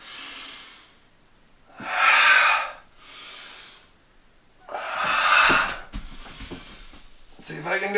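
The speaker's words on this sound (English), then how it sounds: "Exhale." Audible breaths during a low-impact yoga warm-up in a tiny house, alternating long airy inhales and exhales, close and fairly loud, with a few rubbing sounds near the end.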